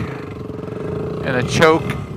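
A WR250X motorcycle engine idles with a steady low rumble after a rebuild while someone talks over it nearby.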